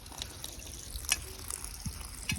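Water runs steadily from a broken pipe in a forest, a soft continuous splashing and trickling with a few small drips and gurgles, fairly quiet and heard on its own.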